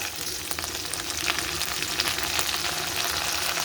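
Mint leaves frying in a pan, a continuous loud bright sizzle with crackling pops, close and steady with no talk.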